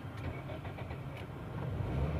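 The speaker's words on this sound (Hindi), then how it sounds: "गाड़ी को स्टार्ट करते हैं, देखते हैं पहले सलाफ पे स्टार्ट होती है कि नहीं होती।" A car engine cranking and catching as it is started on the self-starter, a steady low rumble throughout at close range with no voices.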